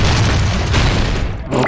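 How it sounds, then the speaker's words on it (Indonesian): Loud, heavy explosion boom in the video game Danganronpa 2: Goodbye Despair, a dense blast filling the whole moment with deep rumble and broad noise, briefly dipping before surging again. "Itu meledak lagi."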